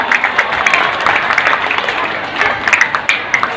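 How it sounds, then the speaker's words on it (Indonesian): Applause from a crowd of children and adults at an elementary school event, quick uneven clapping with sharp peaks, close and fairly loud, with voices mixed in. "Tepuk tangan buat kita semuanya yang mulia."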